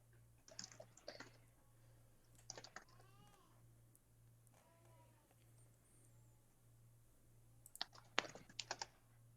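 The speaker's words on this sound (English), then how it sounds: "So I was typing and I literally just typed education." Computer keyboard typing at a desk while playing Dreamchaser: brief clusters of quick, light key clicks in scattered bursts over a steady low electrical hum, fairly faint and close, with no talk.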